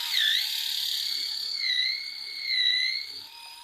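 A Japanese drill boring a hole, giving a steady high whine that rises and dips slightly in pitch as the bit works through the material, close and continuous.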